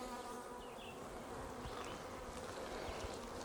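Honeybees buzz steadily around an open hive during an inspection, a dense, continuous drone of many insects close by with no pauses.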